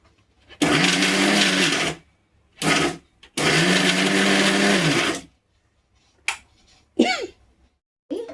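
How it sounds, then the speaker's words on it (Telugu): An electric mixer grinder whirs through gongura chutney in three pulses, a short burst, a brief blip and a longer run, followed by lid and handling clicks, all close and loud. "ఇప్పుడు మూత పెట్టేసుకుని మనం మిక్సీ పట్టుకుందాం."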